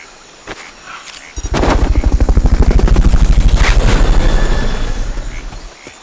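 Fulton recovery helicopter in the video game Metal Gear Solid Peace Walker on PSP: a loud, steady rotor thump with a heavy whooshing roar that swells in abruptly, holds close and strong, then eases slightly at the end.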